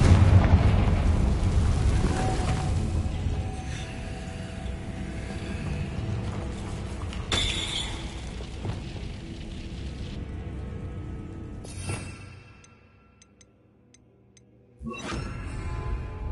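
A Confringo spell goes off in a Harry Potter video game: a long rumbling blast with crackling bursts that fades into near silence, followed by a second heavy boom near the end.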